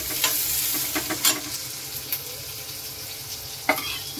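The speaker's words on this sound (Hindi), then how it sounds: "इसमें मैं जीरा लहसुन प्याज हरी मिर्च में इसमें डाल दी, इसको मैं फ्राई कर रही हूँ" Cumin, garlic, onion and green chili sizzle steadily as they fry in a wok, with a few sharp clacks of stirring scattered over the hiss; no one speaks.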